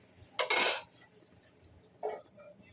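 Lid set on a cooking pot of spinach and eggplant chochori, two close metallic clanks: a louder rattling clatter followed by a shorter, softer clink.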